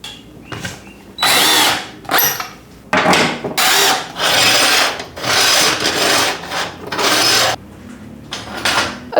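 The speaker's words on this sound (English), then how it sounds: "So let's put a screw in the wall." A power drill drives a screw into a wall at home, whirring loudly and close in repeated bursts of about a second each, separated by short pauses, with no voices.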